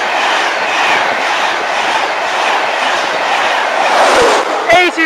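A Class 91 electric train passes at Peterborough station, a loud close rushing roar with rapid wheel clatter throughout, ending with a brief squeal and a few sharp knocks; voices are faintly mixed in.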